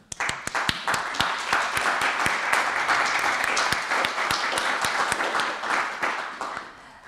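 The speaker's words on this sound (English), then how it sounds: "Let's just give them an applause for this." Steady applause fills a lecture hall during an academic talk. Many hands clap together, with distinct sharp claps near the microphone standing out, and the sound tapers off toward the end.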